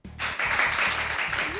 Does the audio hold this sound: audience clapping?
yes